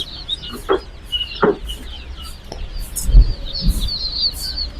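Pullet quails at a poultry market make repeated high, thin chirps, close and steady, with a few knocks and thuds from the stalls and almost no talking.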